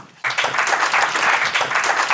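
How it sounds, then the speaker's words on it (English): Applause breaks out suddenly from the crowd at the YPNInspire 2016 event after a speaker is introduced, then holds as a dense, steady roar of clapping with no talk on top. "Can we give him a round of applause?"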